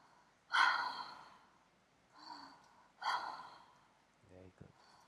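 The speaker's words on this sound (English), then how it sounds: "Deep breath in." A few deep breaths during a breathwork and trauma-release session: long, voiced sighing exhales and a sharp gasp-like intake, spaced out, close and fairly loud.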